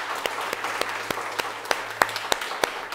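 An audience at a startup event claps for the speakers, a light wash of applause with a few distinct sharp claps standing out at irregular intervals, moderately near and not very loud.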